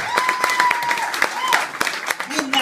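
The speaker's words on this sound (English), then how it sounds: "let's have another warm round of applause for our best man tonight" Wedding guests applaud the best man with a brisk, moderately loud burst of clapping, while a voice talks over the top and a few cheers rise from the crowd.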